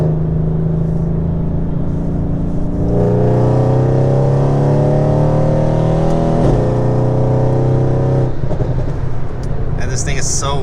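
A Mercedes C63 accelerates hard, its engine droning loud and close from inside the cabin, pitch climbing through gear changes with brief drops between shifts.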